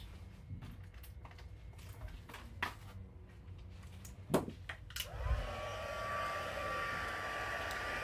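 A heat tool switches on partway through and blows a steady, loud whoosh over paint, following scattered quieter handling knocks and taps.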